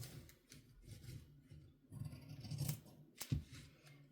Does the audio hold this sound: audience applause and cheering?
no